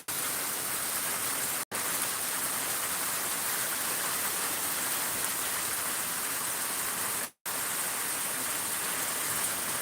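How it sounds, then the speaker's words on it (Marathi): Heavy rain pours steadily in a dense, unbroken hiss, loud and close, with two brief dropouts. "जबरदस्त पावसानं परत एकदा बॅटिंग चालू केलं"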